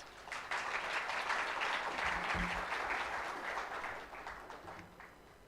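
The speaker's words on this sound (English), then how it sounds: "please big applause for our panelists" A conference audience applauds the panelists at a trade event, with dense, sustained clapping that swells quickly, holds steady and then gradually thins out toward the end.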